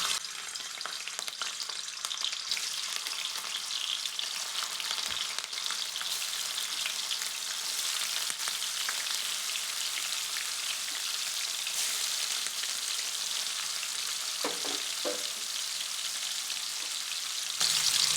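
Paneer pieces fry in hot oil with ghee, a steady close sizzle and crackle running unbroken with occasional stir clinks and no talk.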